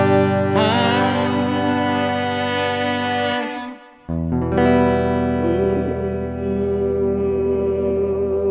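A singing voice processed by a HeadRush Looperboard with 8th- and 16th-note delays, so repeats smear and trail behind each loud held phrase, with a short dip midway before the echoing voice resumes.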